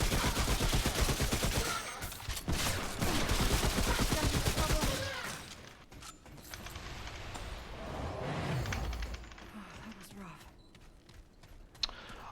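Rapid gunfire from a turret in the video game Remnant: From the Ashes, a dense loud burst of shots for about five seconds, then quieter scattered combat noise with a voice talking over it.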